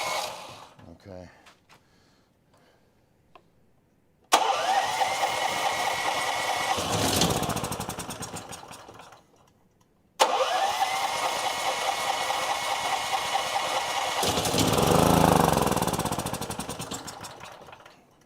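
A small engine on a snow blower or generator, running only on brake cleaner, bursts to life twice after quiet pauses. It revs loudly with a buzzing roar for several seconds each time, then sags and dies, with people talking nearby.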